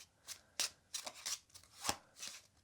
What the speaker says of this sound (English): It's the kind of shuffle that you do when you play Uno or something.